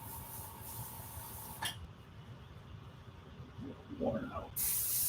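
An airbrush sprays paint in short streaking passes on a pirate skull artwork, a loud hiss at the start that cuts off, then quiet, then the hiss resumes at the end, with a brief voice in between.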